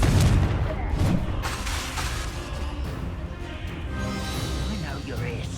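A Confringo blasting spell detonates in the Hogwarts Legacy video game, with a heavy, booming burst at the start trailing into a rumbling wash while voices talk over it.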